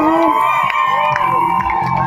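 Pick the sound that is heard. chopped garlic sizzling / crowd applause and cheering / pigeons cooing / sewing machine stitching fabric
crowd applause and cheering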